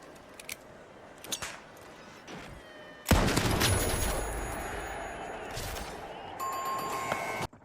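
Gunfire in the shooter game The Finals, with a few sharp sniper cracks followed by a heavy frag grenade blast that rumbles on loudly, then more clicking and ringing effects.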